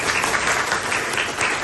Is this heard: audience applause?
yes